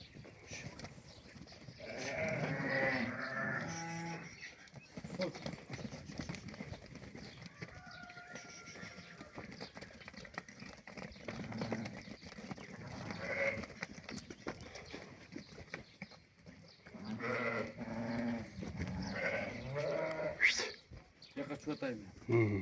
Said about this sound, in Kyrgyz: Мына көрүңүздөр, экранда койлорду туугандар.